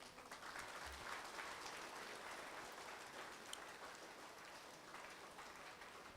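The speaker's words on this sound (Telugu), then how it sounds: "ఒకసారి గట్టిగా చప్పట్లు కొడదాం." A crowd at a Shivaratri event applauds steadily, a soft, distant, even patter of many hands that keeps going without a break.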